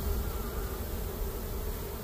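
Rescued honey bees, their comb collapsed, crowd the entrance of a new hive, making a steady, loud, close buzz that never lets up.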